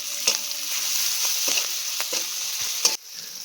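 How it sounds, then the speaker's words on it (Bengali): Onions, green chillies and salt fry in oil, a steady close sizzle broken by irregular scraping stirs of a spatula, ending with a sharper knock before the hiss softens. "পেঁয়াজ কাঁচা লঙ্কা পরিমাণ মতো নুন দিয়ে সেগুলোকে ভালো করে একটুখানি কষিয়ে নেব।"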